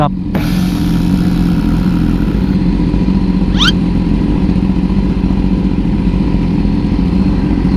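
Big bike motorcycle engine while riding, a steady loud drone with a constant mid-pitched rumble throughout, close to the rider, with a brief rising tone partway through.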